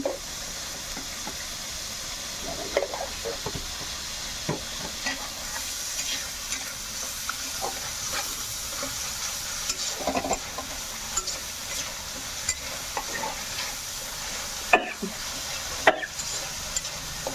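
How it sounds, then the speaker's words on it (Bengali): Spices for doi aloo are stir-fried in a pan with salt. A continuous sizzle sits under scattered scrapes and knocks of a spoon against the pan, all close, with no speech. "ভালো করে কষাই নেবা।"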